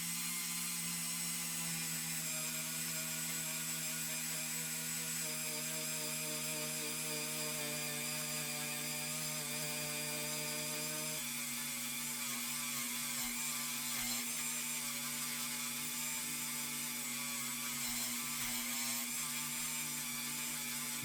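A sanded bicycle wheel part, from a cut-off Redline Deora wheel, is polished with a steady, droning power tool that runs continuously and loud throughout, its pitch shifting slightly partway through.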